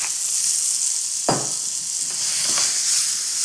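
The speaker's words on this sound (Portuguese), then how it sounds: "Os cogumelos agora já estão a ficar bem caramelizados." Mushrooms and garlic sizzle in olive oil in a pan, a steady bright hiss with a couple of sharp stirring scrapes partway through, close and alone.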